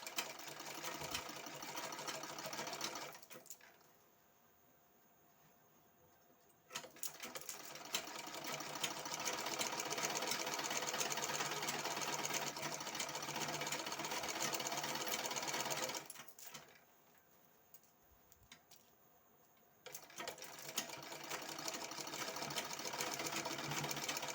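A sewing machine stitches patiala pants in steady, loud runs. It whirs continuously, stops briefly twice, then starts up again.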